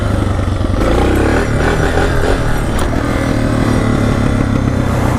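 A motorcycle throttles hard in first gear, its engine roaring loud and close with a rough, continuous drone as it pulls up into a wheelie.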